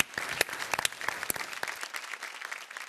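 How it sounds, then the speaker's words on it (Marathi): Studio audience applause for a child dancer on a Marathi TV dance competition show, a scattered burst of clapping with sharp individual claps, moderately close and tapering slightly. "चारवीसाठी जोरदार टाळ्या."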